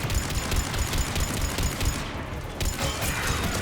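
Rapid, sustained gunfire from a Mass Effect Legendary Edition firefight: loud overlapping bursts of shots crackle continuously, with a brief lull before the volley resumes.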